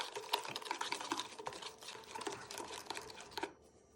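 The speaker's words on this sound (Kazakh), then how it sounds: "Bir dana жұмыртқаға қантымызды салып, жақсылап венчикпен қанты ергенше араластырып аламыз." A wire whisk beating one egg with sugar in a bowl, quick rhythmic scraping and clinking strokes, close and fairly quiet, stopping abruptly near the end.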